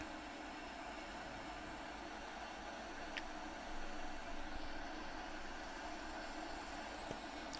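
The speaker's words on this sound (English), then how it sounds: "you can hear how much effort the Loco has to put in to do the braking" Steady, heavy rumble of a Krokodil electric locomotive braking on the Mittenwaldbahn in Train Sim World 5, in rain, with a brief metallic squeal partway through and a slight swell in loudness near the middle.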